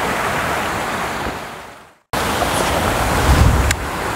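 A river on Dartmoor near Lydford rushes in a continuous broadband roar, briefly cutting out midway, then resuming just as full and close.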